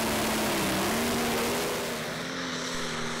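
A 2,200-horsepower pulling tractor at a Danish championship round in Herning roars loudly down the track. A sustained, droning engine tone slides slightly in pitch and eases off a little toward the end.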